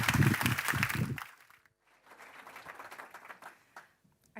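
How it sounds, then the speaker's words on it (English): A loud voice-like burst opens, then brief, moderate audience applause for the European Commissioner for Energy at a grid and energy-transition conference, scattered clapping that rises and tapers off within about two seconds. "Give her a round of applause,"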